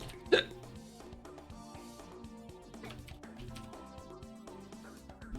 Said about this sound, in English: Why would you get hiccups from eating an apple every time you eat an apple?